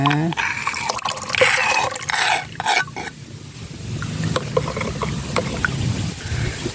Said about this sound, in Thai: เติมในน้ำซาวข้าวเลยนะคะ